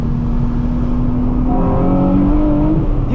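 A Nissan 350Z engine revs close and loud toward high rpm, a continuous rising drone that shifts from smooth to a rougher, gurgling edge, with no talking over it.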